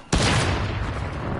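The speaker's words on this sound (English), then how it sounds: "You're shooting me and you never told me you were back" A single sharp, loud gunshot in the Fortnite video game bursts out abruptly, then decays into a long, reverberant rumbling tail with no one speaking.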